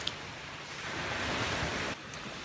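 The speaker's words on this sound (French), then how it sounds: "C'est le bruit des vagues qui l'interpelle." Steady roar of ocean waves breaking on a beach in Miami, a continuous wash of surf with a slight swell and drop near the end, heard alone without voices.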